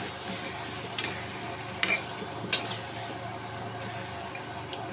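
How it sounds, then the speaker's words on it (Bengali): Chicken and potatoes fry with spices in a pot for biryani. A quiet, steady sizzle runs underneath while a utensil stirs and scrapes, and a few sharp clinks of metal against the pot are heard. "আবার আমি কিন্তু আজকে সব কিছু একবারে মশলা দিয়ে ভেজে নিচ্ছি।"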